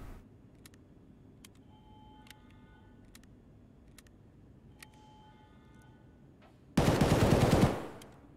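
AK assault rifle firing in a video game, a single dense burst of automatic fire lasting about a second, loud and close, after a stretch of quiet ticking game ambience.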